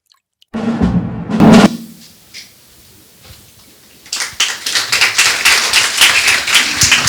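An audience breaks into applause, a burst of clapping that fades, then swells again into a dense, sustained round of many hands.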